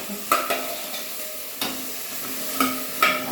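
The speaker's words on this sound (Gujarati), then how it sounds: "એને આ તમે ઘીમાં શેકશું તો ગાજરનો બહુ લાલ બી મસ્ત" Grated carrots stirred in ghee in a pan for a carrot milk dessert: a few distinct scrapes and taps of a spoon at intervals over a faint steady sizzle, close up with no voice.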